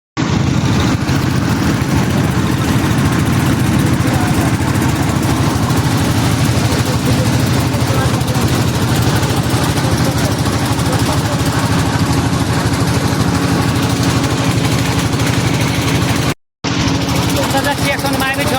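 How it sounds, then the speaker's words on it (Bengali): An engine-driven hired passenger boat motor runs steadily and loudly throughout, a continuous low rumbling drone near at hand with a brief dropout near the end, while people talk over it on the way to a waterfall among other boats. "অবশেষে এই ইঞ্জিন চালিত নৌকাটা আমরা ভাড়া করলাম"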